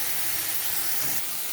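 Ground spice paste with tomato in a hot pan, with a little water added, giving a steady loud hiss and sizzle of steam, close and continuous with no talk.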